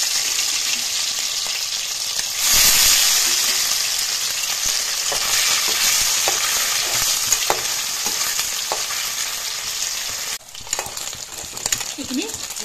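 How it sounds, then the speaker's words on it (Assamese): Pieces frying in hot oil in a wok, a loud continuous close sizzle with scattered clinks and scrapes of stirring, the bubbling easing off near the end. "এইখিনি অলপ ফ্ৰাই কৰি লম"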